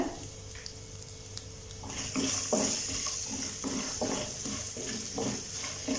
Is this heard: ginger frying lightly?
yes